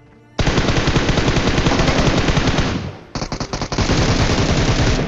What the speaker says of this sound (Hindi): ये जो फायरिंग है उस टीम को एक सेकंड के अंदर मारने वाली है